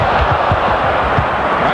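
A large arena crowd at the 1989 NBA All-Star Game cheers for Hakeem Olajuwon, a loud dense roar with a few low thumps beneath it.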